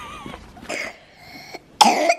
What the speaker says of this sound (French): Oh, tu tousses mon bébé d'amour.